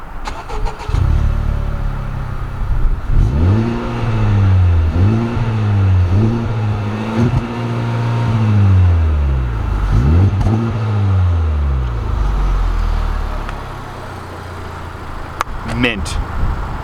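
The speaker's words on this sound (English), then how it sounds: "let's hear the engine." A Honda Civic Type R in Boost Blue starts up and is revved several times, each sharp rise and fall of the engine loud and close, with people talking over it.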